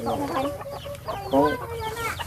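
Chickens cluck close by at a rural family home, giving a steady run of short, throaty clucks that rise in a louder cluster partway through.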